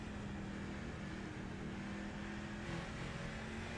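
Race car engine in a racing video game at North Wilkesboro Speedway, a continuous buzzing drone with a steady, rhythmic throttle note holding nearly constant, loud and alone.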